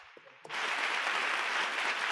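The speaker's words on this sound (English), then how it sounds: "I had to give you a round of applause for that." A round of applause erupts suddenly after a few faint taps, a dense, steady patter of clapping from a small group that holds on without a break, heard at an online holiday music camp after a performance.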